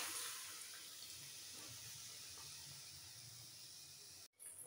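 Water swishes in a steady, soft stream as a pressure cooker is rinsed out with a little water in a home kitchen, continuing for a few seconds before a brief break with no talk.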